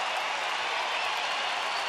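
Large crowd at a Texas Rangers night baseball game against Oakland, a steady broadband roar of cheering that holds evenly with no breaks throughout.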